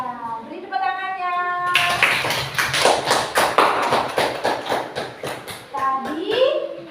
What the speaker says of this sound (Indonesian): Iya, beri tepuk tangannya.